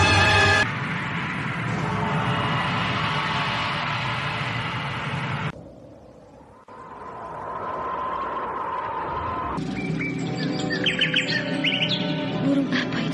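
Chirping birdsong in an Indonesian radio drama: dense, bright warbling bursts in layered stretches, broken by a brief hushed gap before a lower steady tone and then a livelier flurry of tweets, with no talk over it.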